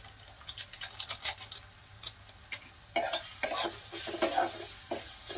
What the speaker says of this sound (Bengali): তো এটাও দিয়ে ভালো করে নাড়াচাড়া করে নিতে হবে।